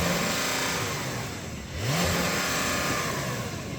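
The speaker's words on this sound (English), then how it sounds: "I'm going to put this car in sport mode and then I'm going to rev it" Porsche 911 engine in sport mode, parked, revved in a steady sustained rev that dips briefly midway before rising again, fairly loud and close with no talking over it.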